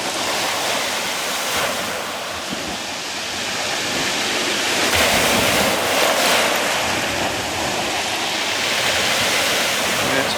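Ocean waves of the incoming tide wash onto a dense rainforest shore at dawn, a steady broadband roar of surf with slow swells in loudness and some wind noise on the microphone.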